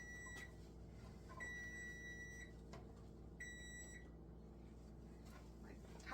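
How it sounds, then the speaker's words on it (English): A kitchen timer beeps in repeated steady tones, pausing and resuming several times over a constant low hum in a home kitchen, fairly faint. "My timer is still buzzing at me."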